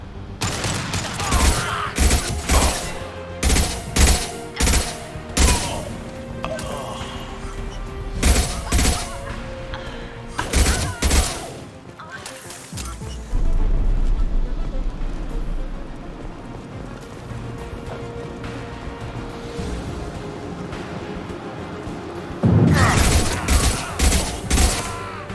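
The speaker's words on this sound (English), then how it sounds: "Heavy weapon." Heavy weapon fire in the game Mass Effect 2, a series of loud booming discharges in irregular bursts, then a long rumbling stretch before another cluster of heavy shots closes it out.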